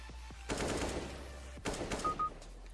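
Gunfire in the video game CS:GO, two separate bursts of shots about a second apart, the second followed by a short electronic beep, over a low steady hum.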